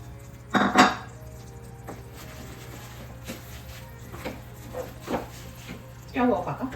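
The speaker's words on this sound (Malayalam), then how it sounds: "ഇനി എള്ളിടാം." Sesame seeds are tipped into a pan of syrup for ellunda, bringing a few scattered scrapes and metallic clinks of a spoon against the pan over a low steady hum.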